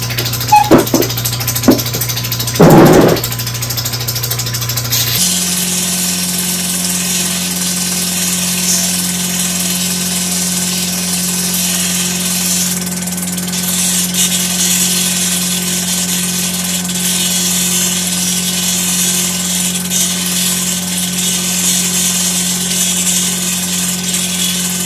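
A polishing wheel works a piece of turquoise stone: a few short knocks and a brief scrape, then the wheel's steady loud motor hum with a constant whining tone carries on unbroken.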